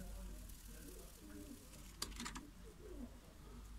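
Sivas turtle doves cooing in a bird enclosure, soft repeated low coos over a steady background hum, with a brief brighter burst of higher calls midway.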